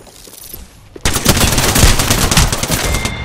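Rapid automatic gunfire in the video game Apex Legends breaks out after about a second of quiet game ambience, then rattles on loud and close in a continuous stream of shots until the end.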